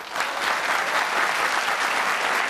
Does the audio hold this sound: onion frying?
no